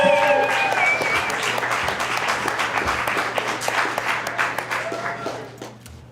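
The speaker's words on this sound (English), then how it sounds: "Round of applause for Rosemary!" An audience applauds a performer at a comedy and monologue showcase, loud clapping at first that gradually thins and fades, with a few scattered claps and brief voices near the end.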